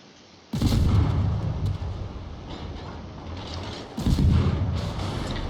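Two heavy naval artillery salvos boom from a warship in a naval video game, each a deep, loud blast with a rumbling tail, the second arriving about three and a half seconds after the first.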